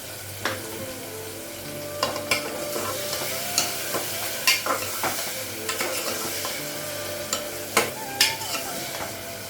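Green chilies, dried chilies and onion frying in oil with cardamom and cinnamon, a steady low sizzle broken by repeated scraping stirs and clinks of a spatula against the pan, with no voices.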